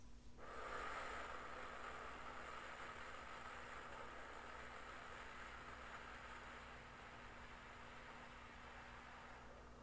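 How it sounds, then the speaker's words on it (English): A slow, controlled breath is let out through pursed lips, a soft, steady airy hiss that starts strongly and then holds faint and even for the rest of the stretch, heard close with no talking. "So you can take a long, deep breath in. Purse the lips."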